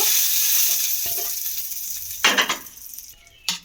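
Hot spiced tadka oil poured into a bowl of chutney crackles and sizzles steadily, close and bright, with a couple of sharper spits and clinks near the end.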